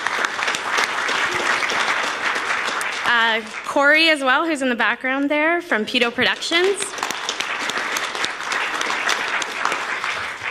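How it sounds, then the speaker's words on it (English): Audience applause at a conference closing session, steady clapping from a room of people that carries throughout, with someone speaking over it in the middle. "So big round of applause."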